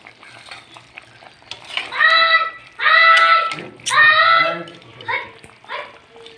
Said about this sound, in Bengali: দিয়ে একটু নেড়ে দেব।